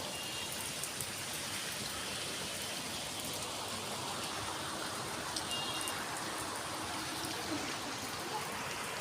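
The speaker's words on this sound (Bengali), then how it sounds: "আজকে কিছুদিন যাবত অনেক বৃষ্টি হইতেছে, একটু পরপর থাইমা থেমে বৃষ্টি হইতেছে" Rain falls on a rooftop in a soft, even hiss of countless drops that stays faint and steady from start to finish, with no voices over it.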